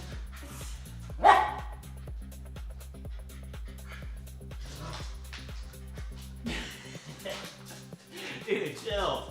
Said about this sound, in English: This dog is crazy.